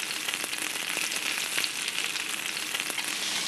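Pork tenderloin breaded in crushed crackers fries in a pan with a steady, dense sizzle and crackle, close and continuous with no talking.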